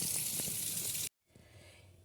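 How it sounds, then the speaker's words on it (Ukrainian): Cold tap water runs hard over yardlong beans being rinsed, a bright steady rush that cuts off abruptly, then a softer trickle and faint splashes follow. "Промиваємо вігно під холодною водою."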